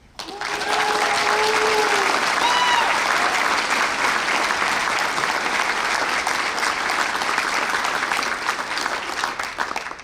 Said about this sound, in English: Please give a loud round of applause to this year's female runner-up, Caitlin Bach.